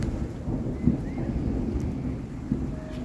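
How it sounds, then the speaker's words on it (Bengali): Rain falling on a hillside village in West Sikkim, a soft steady wash with low rumbling thunder underneath and a couple of slightly stronger gusts or drops, heard alone without voices. "সত্যি সত্যি বৃষ্টি নামলো।"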